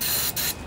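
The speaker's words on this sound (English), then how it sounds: "A little more starting fluid in here." Short bursts of starting fluid sprayed into a Briggs and Stratton OHV Intek twin engine from a junkyard Husqvarna riding mower, a close, loud hiss broken by a brief pause.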